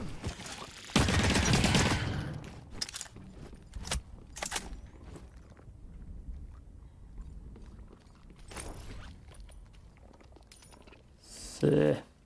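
Assault rifle fire in The Cycle: Frontier crackles in rapid bursts, a loud volley early on, a few shorter shots later and a final close burst near the end, with quieter movement sounds between.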